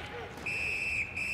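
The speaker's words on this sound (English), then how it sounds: "A whistle and a rest." A referee's whistle in the NHL 18 hockey video game gives one sustained shrill blast with a short break near its end, over crowd and arena noise and a voice talking.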